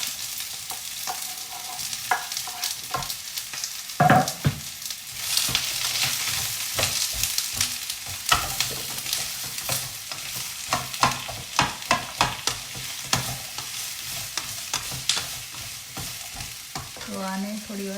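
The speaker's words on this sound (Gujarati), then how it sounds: "તો આને થોડી વાર આપણે સાતળીશું" Chopped vegetables sauté in olive oil in a pan, a steady sizzle with repeated stirring and spoon scrapes throughout.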